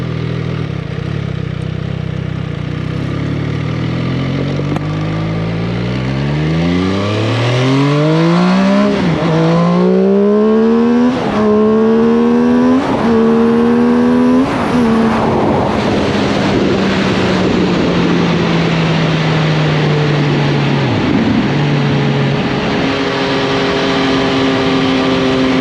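An MV Agusta Brutale 800 Dragster RR motorcycle engine revving up through the gears, pitch climbing and dropping at each shift, loud and continuous under heavy wind rush, then settling into a steady cruise.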